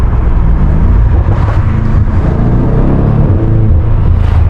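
Heavy, loud engine and exhaust drone from a BMW M5 Competition driven on backroads, a steady deep rumble with slight swells of revving heard from the cabin, with no one speaking.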